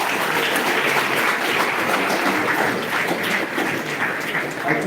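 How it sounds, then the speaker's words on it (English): Dense, loud audience applause at a live investor meet event, a continuous roar of many people clapping at once that holds steady throughout. "Please give applause to him."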